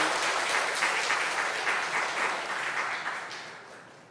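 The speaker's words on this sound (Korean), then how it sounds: "목사님께 박수 드리겠습니다" A church congregation at a Sunday worship service applauds loudly and steadily for about four seconds, and the clapping gradually fades away.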